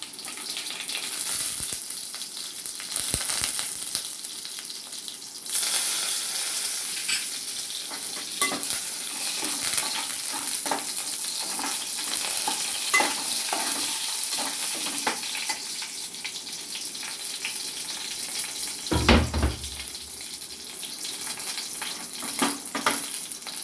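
Curry leaves and dried red chillies sizzle in hot oil for a tempering, a steady bright frying hiss with occasional stirring clinks and pops throughout.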